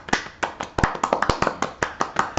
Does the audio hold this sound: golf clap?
yes